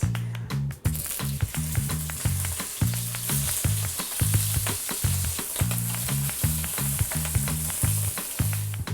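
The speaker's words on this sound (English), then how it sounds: "So sear the shrimp. Make sure the oil is hot." Shrimp searing in hot oil in a wok for a Thai tamarind shrimp dish, a loud steady sizzle with dense crackling spits, punctuated by repeated rhythmic scraping and tossing strokes throughout.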